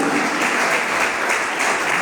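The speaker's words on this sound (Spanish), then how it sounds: "Y le dan un fuerte aplauso a Jesucristo." A church congregation gives steady, dense applause for two seconds, filling the room at an even level.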